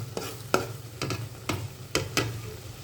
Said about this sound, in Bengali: আপনারা দেখতেছেন মশলাগুলো সিদ্ধ হচ্ছে, মশলাগুলোর তেল উপরে আস্তে আস্তে উঠে যাচ্ছে